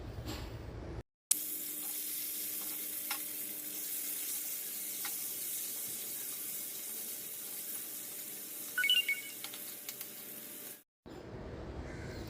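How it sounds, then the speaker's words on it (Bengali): Cut potato pieces fry in hot oil for an egg curry, giving a steady, even sizzle that holds at one level throughout, with a short scrape or clink near the end and no talking. "কাটা আলুগুলো ছেড়ে দেব আর ভালো মতো নিপিট উপিট করে লাল লাল করে ভেজে নেবো"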